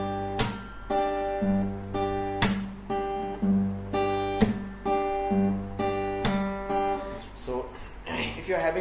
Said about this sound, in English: So after you slap the strings, you just plug them, the first and the second strings.